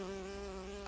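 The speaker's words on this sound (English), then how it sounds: "I can hear a fly. Oh, it's a bee." A bee in the video game BioShock buzzes with a steady, droning hum, close and fairly quiet, continuous for under a second with no talking.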